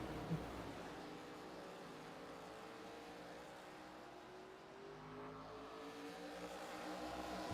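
Race cars accelerating off a corner at Martinsville in a racing game, a steady engine drone with rising pitch sweeps that fades slightly midway, heard alone without talk.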